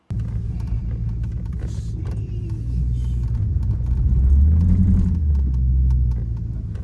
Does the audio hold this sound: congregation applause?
no